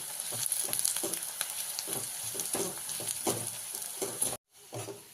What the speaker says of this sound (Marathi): त्याला चांगला ब्राऊन कलर येईपर्यंत आपण ह्याला चांगलं तळून घ्यायचं।